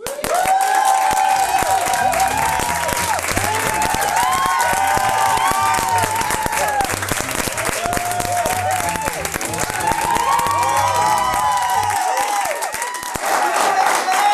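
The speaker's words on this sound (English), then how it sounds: "why don't you give a round of applause for the Studio A band?" A studio audience on a TV comedy show applauds and cheers the Studio A band, a loud, sustained wash of clapping and crowd noise over the band's music, running without a break.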